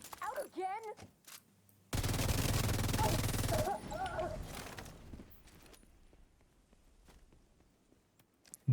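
A gun in a video game empties its magazine in one continuous loud burst of rapid fire lasting just under two seconds, followed by scattered fainter shots and footsteps. Someone talks briefly just before the burst.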